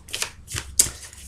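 Tarot cards shuffled for a reading, giving three short papery riffles and slides close to the listener, with a sharp little snap on the last one.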